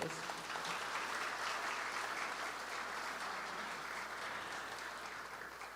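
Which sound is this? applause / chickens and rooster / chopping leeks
applause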